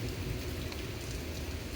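Brief stretch of dense, steady rainfall during a thunderstorm, a constant close wash of sound with a faint low rumble beneath.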